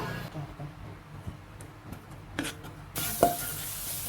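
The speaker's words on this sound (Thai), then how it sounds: "ใส่กระเทียมสับลงไปผัดก่อนครับ" Chopped garlic stir-frying in a wok for seafood pad see ew: a soft sizzle with scraping utensil strokes, then a louder burst of hissing near the end.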